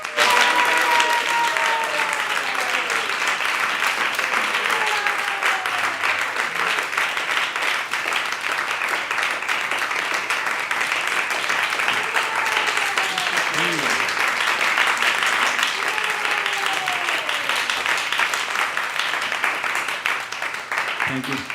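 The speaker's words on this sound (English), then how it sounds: "Please give a big round of applause." Sustained audience applause at a devotional celebration, a thick, even roar of many hands clapping for over twenty seconds, with faint tonal sounds and voices drifting underneath.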